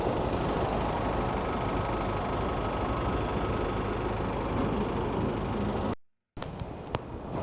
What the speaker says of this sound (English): it's quite noisy and I'm stuck on the traffic lights